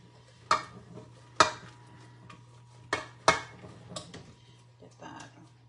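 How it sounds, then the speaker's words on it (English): Whisking flour into a pan for ham croquetas, several sharp scraping strokes of a whisk against the pan at uneven intervals over a low steady hum. "Okay, and I'm gonna whisk that in."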